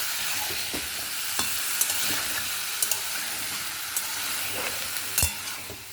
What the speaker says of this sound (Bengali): এবার একটু নাড়ি। ঝিঙে থেকে তো জল বেরোয়, ওই জন্য আলুটা একটু ভালো করে ভেজে নিলাম।